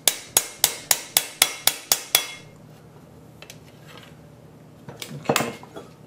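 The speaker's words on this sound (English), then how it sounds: "Got the magic hammer here. Might as well use it, right?" A hammer strikes a part of a 1930 Briggs FH engine in about nine quick, even, ringing metallic blows up close, followed by quiet shuffling and a few fainter clanks.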